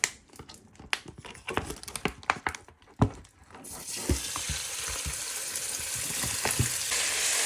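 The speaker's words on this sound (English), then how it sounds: "So when your mince now in your pan, nice and sizzling" Beef mince sizzling in a hot pan for a Chinese stir fry, starting with scattered crackles and pops, then swelling into a loud, continuous frying hiss that holds steady to the end.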